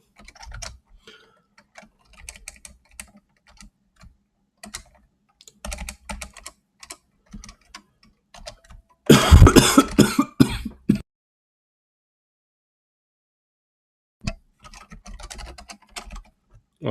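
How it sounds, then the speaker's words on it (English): Typing on a computer keyboard during a Haskell programming livestream, bursts of quick close key clicks separated by pauses, with a short loud noisy interruption midway. "Okay, my typing is fantastic."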